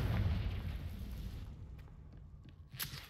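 A Confringo fire spell blast in Hogwarts Legacy, a heavy booming rumble that swells and slowly fades, followed by a sharper crackling burst near the end, loud with no voices.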